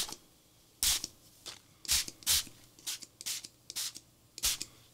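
Tumble Dye glitter neon spray hissing onto paper in short sharp bursts, about a dozen quick close sprays of uneven length over a quiet background.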